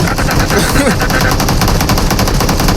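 Rapid, loud automatic gunfire from the video game PUBG Mobile rattles continuously, dense and close, with a brief voice surfacing in the middle.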